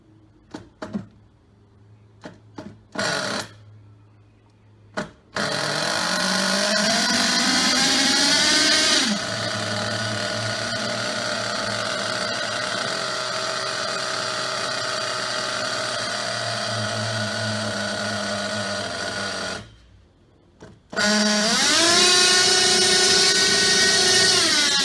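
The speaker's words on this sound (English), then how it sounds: "the first time we started it up, we accidentally had the carb fully open," Nitro engine of a 2007 Thunder Tiger EB4 S3 4WD RC buggy with a Pro28BK motor, carb fully open: a few short bursts, then a loud, sustained high-pitched buzzing rev with pitch swoops, a brief cutout and another hard rev.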